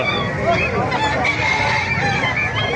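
Chickens cluck and a rooster crows amid a busy crowd of birds at a poultry market in Calumpit, Bulacan, with people talking nearby.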